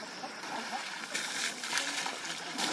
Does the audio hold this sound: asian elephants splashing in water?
yes